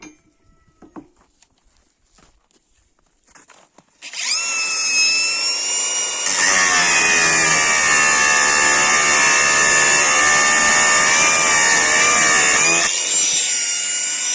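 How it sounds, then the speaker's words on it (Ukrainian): A Procraft PGA 20 cordless angle grinder spins up, then bites into rebar with a loud, steady high-pitched cutting whine that holds for several seconds before easing back to free spinning. "а тепер давайте розпиляємо арматурку"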